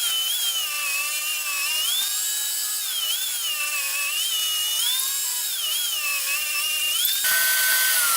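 A saw whines at a high steady pitch while cutting purpleheart and maple boards into strips, its tone wavering slightly under load, then shifting abruptly near the end.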